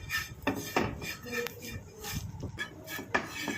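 A spoon stirs face-pack powder as it dry-fries in a pan on the stove, making soft, irregular scraping and clinking strokes, close and fairly quiet.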